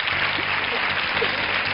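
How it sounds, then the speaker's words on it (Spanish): A studio audience at a televised talent show bursts into steady, dense applause, loud and sustained for a couple of seconds with no voices rising above it. "con un aplauso así de la mejor de la noche"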